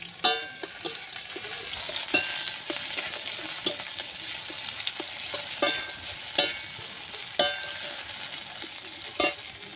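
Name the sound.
chopped onion frying in oil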